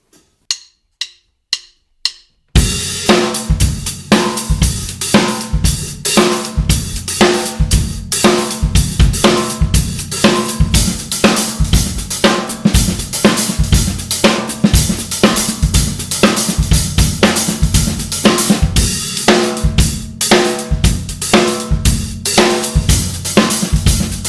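A few sparse hi-hat taps, then a full drumbeat with busy, driving open-handed hi-hat strokes over kick and snare, steady and loud, no talking.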